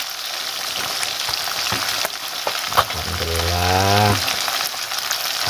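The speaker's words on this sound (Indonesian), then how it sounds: "Kita goreng garing, rasanya kriuk-kriuk." Food frying until crispy in a pan while cooking at a forest hut, a continuous crackling sizzle with spatters, joined near the end by a person's brief voice.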